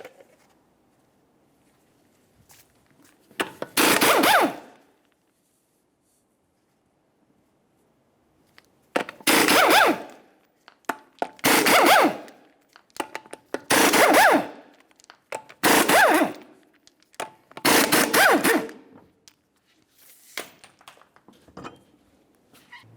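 Impact gun bursts spin off the six 19mm lug nuts on a 2002-2009 Chevrolet's front wheel, six short loud whirring blasts in an irregular sequence with quiet gaps between them.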